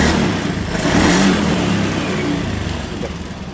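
The engine of a 2019 Honda Beat scooter, started by a remote alarm, runs close and loud with a steady drone that swells slightly early on, then settles into a continuous idle.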